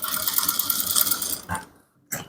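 A sewing machine stitches down a trouser panel, its needle running in a steady, fast mechanical chatter up close, then stopping briefly before a short final burst; no talking.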